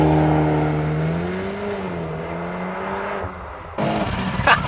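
A VW Golf R fitted with an Akrapovič exhaust launches on a track under launch control, the engine note climbing steadily through a long pull before a sharp shift and renewed roar, loud and close.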